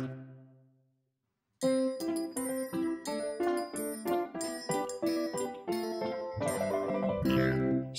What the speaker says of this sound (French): C'est une cloche.